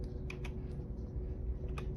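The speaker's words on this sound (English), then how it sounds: "Are you typing?" Typing on a computer keyboard at a dispatch desk during a walkthrough of computer-aided dispatch software, with a few sharp key clicks scattered over a steady low room hum. No one speaks.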